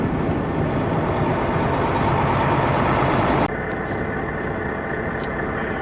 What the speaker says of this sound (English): Now here's what my engine sounds